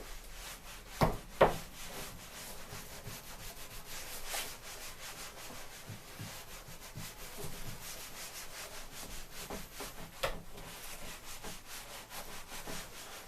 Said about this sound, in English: I'm going to use my sponge trowel, dip it in, and basically what we do is we're just going to rub it on there.